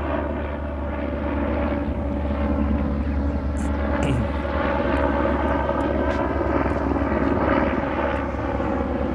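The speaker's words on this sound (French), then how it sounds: "On va laisser passer l'hélicoptère." Helicopter flying over the Cholula archaeological zone in Mexico: a loud, continuous engine and rotor drone with a steady throbbing texture, close overhead, with no talk.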